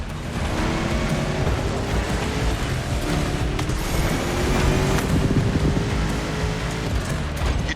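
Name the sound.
1969 Mustang Boss 429 engine in The Crew Motorfest video game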